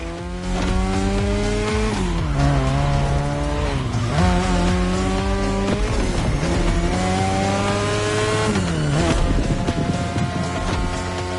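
In a racing video game, a car drifts through sharp turns, its engine droning loudly under repeated long tire squeals that rise and fall with each slide, with no voices.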